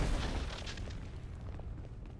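A grenade explodes in a Star Wars video game as a deep, rumbling boom that fades over about two seconds.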